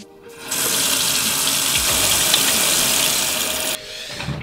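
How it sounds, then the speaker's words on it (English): Tap water runs steadily into a sink for a few seconds while hands are washed under the stream, a dense close hiss with slight splashing shifts, starting and stopping abruptly in a quiet indoor room. "now that's nice and clean, we go and wash our hands."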